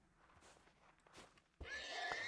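A horse whinnies in snowy surroundings, a faint rustle first, then a louder, sustained, bright neigh takes over the last part of the clip.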